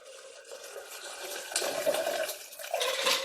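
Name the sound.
liquid poured back and forth between mixing glasses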